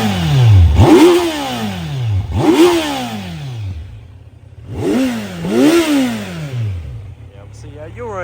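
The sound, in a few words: 2025 Kawasaki Z900 motorcycle engine starting and revving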